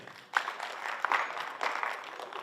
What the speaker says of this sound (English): I think we need to clap for that anyway.